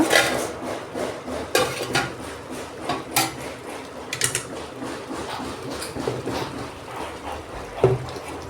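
A fish and potato curry is stirred in a pot after the lid comes off, with irregular metallic scrapes and knocks of a spoon against the pot over a low simmering background and no voices.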